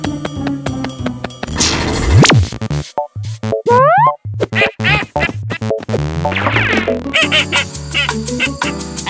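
A cartoon duck from the animated series Pocoyo quacks and honks loudly and repeatedly in bursts, with rising and falling squawks mixed among bright musical sound effects.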